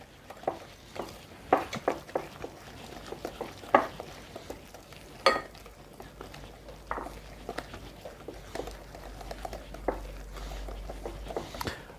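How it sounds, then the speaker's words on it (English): A Mexican casserole mixture being stirred, soft irregular scrapes and wet dabs of a spoon against the bowl, with a few sharper clinks scattered through, fairly quiet and close with a low hum near the end. "let's go back to mixing up some more"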